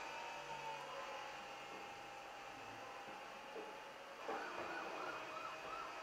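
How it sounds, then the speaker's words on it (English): A faint wailing police siren in the video game Need for Speed: Porsche 2000 rises and falls in the background over a steady low hum, with no talking. "Siren"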